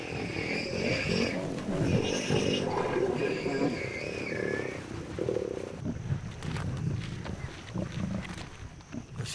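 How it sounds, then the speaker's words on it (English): Lion pride feeding on a warthog at night: low growls and rumbling snarls mixed with tearing and crunching, moderately distant and steady, with a few higher calls over the din. "The sound of their feast carries far in the cool night air."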